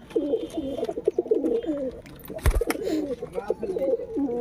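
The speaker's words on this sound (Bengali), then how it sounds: "দেখতে পাচ্ছ পায়রাগুলো নিচু নেমে পড়েছে খাবারের জন্য" Pigeons coo in low, repeated rolling calls as they come down to feed, close by and fairly loud, with a sharp knock or flutter in the middle of the cooing.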